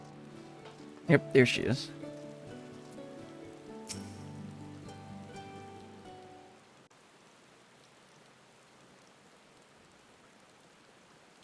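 Rain falling in Final Fantasy XIV, a soft, steady hiss of rainfall behind game music and a few sharp chimes early on, then rain continues alone and faint once the music fades, with a brief spoken line.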